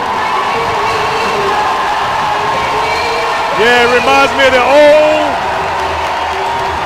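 Loud crowd noise fills Reynolds Coliseum during an NC State vs Clemson basketball game, a dense roar of cheering with whoops and shouts swelling midway, while a commentator talks over it.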